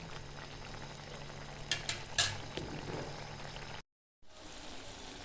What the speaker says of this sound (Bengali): মাছগুলো দিয়ে এক থেকে দু মিনিট আরও ফোটাতে হবে